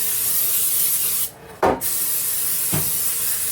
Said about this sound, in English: I've got this butter spray that I'm going to use. Just going to spray my pans.